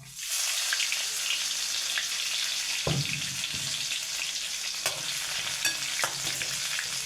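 Garlic sizzles steadily in hot coconut oil alongside popped mustard and cumin seeds, a continuous close frying hiss broken by a few scraping stirs of a spoon against the pan.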